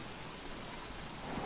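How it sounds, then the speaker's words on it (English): Rain falling in the video game Don't Starve, a steady dense hiss of downpour that fills the scene evenly and quietly, with no voices. "we're suffering from rain exposure"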